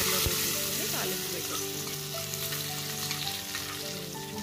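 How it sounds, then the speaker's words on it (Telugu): A hot tempering of cumin, mustard seeds, chillies and curry leaves sizzles steadily as it meets lemon moong dal soup, a close, continuous hissing crackle with no talk. "ఇప్పుడు నేను దీన్ని పప్పుచారులో వేసుకొని తాలింపు"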